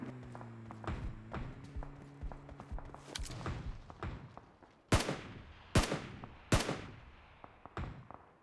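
Rifle shots from PUBG Mobile ring out, comparing SCAR-L and AUG, scattered single cracks and short bursts, with sharper, louder shots toward the end.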